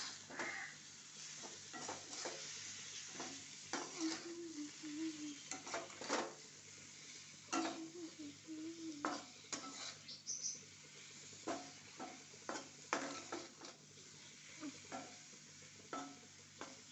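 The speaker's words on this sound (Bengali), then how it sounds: "তারপরে এটা মশলার সাথে হালকা একটু ভেজে নেব।" Koi fish frying lightly with spices in a pan, a soft steady sizzle under repeated stirring and scraping of a utensil against the pan, with occasional clinks of cookware, fairly close and quiet.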